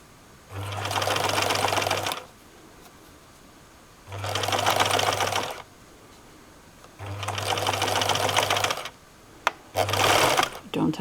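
A Bernina sewing machine stitches a seam in four separate bursts of steady, loud mechanical humming and rapid needle clatter, with quiet pauses between runs.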